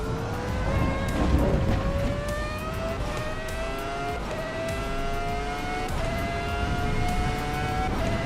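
A car engine revving hard under acceleration while driving around Florida, its pitch climbing steadily through several gear changes with brief dips between pulls, loud and close inside the car.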